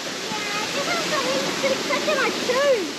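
Steady rushing water fills the whole clip, a continuous broadband roar like a nearby waterfall, with faint chirping birdsong on top.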